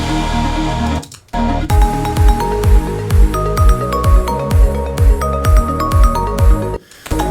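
A bass with Pro-Q EQ, a soft clipper and a low pass filter thumps in loud repeated pulses with falling pitch and a ticking top layer, breaking off briefly twice.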